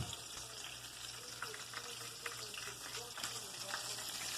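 Double-battered chicken pieces frying in hot oil for homemade fried chicken. Steady crackling sizzle with scattered sharp pops and light clinks, fairly faint and continuous, with no voice over it.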